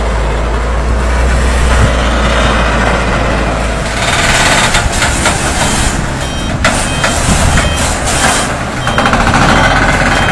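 A FAW CA6 truck engine runs on a Banten to Medan haul, heard as a loud, steady diesel rumble close by, with faint beeping and road noise throughout.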